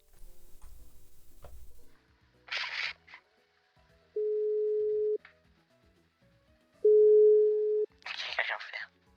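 Two steady telephone tones, each about a second long, sound during a call, separated by pauses, with short bursts of noise and a faint voice around them.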